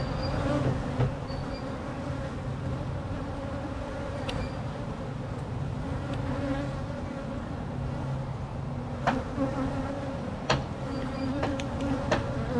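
Honey bees hum in an open hive, a continuous close buzzing with a few brief clicks and knocks scattered through it.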